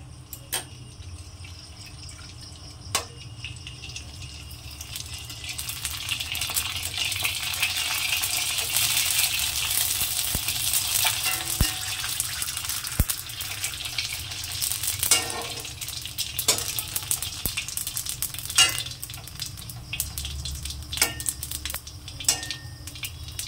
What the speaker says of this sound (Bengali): আমি কড়াইতে তেল বসিয়ে দিয়েছি, তেলটা গরম হয়ে গেছে। আমি এবার ফুচকাগুলো ভেজে নেব।